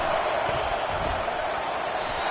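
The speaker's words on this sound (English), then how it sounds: "This crowd trying to make life miserable for this offense." Stadium crowd noise from the College Football 25 video game, a steady broadband roar that holds at an even level with no clear cheers or peaks standing out.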